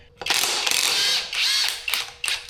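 Ratchet clicking rapidly while loosening the ring gear bolts on a blown transmission from a turbo K20 Honda CRX, in several close, loud bursts of ratcheting.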